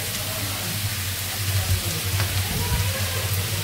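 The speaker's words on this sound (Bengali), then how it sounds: "পটল আর আলু একটু ভেজে নিলাম, এখন দিয়ে দিচ্ছি পেঁয়াজ" Pointed gourd, potato and onion frying in hot oil in a home kitchen, giving a steady close hiss and crackle with a low hum underneath throughout.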